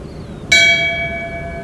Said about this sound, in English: Would you please ring the bell in tribute and in memory